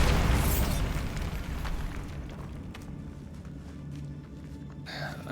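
A Bombarda explosion spell bursts in Hogwarts Legacy, a loud blast at the start whose rumbling boom decays over several seconds, with a brief crackle near the end.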